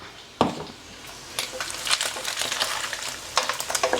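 Gongura chicken pickle paste frying in oil in a pan, a steady crackling sizzle with sharp spatula scrapes and stirring clatter, close and fairly loud, with no voices.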